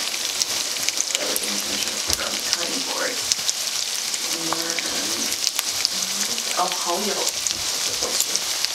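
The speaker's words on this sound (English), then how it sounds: "put the garlic and the ginger in this" Garlic and ginger hiss and crackle in a hot pan with a steady dense sizzle and some stirring, while voices chatter faintly over the top at times.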